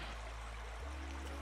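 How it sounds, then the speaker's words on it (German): A small mountain brook flows steadily along a hiking trail near Reit im Winkl in the Bavarian Alps, a soft continuous rushing and trickling close by, with low wind rumble underneath and no voices. "Geht man da so einen kleinen Bach entlang"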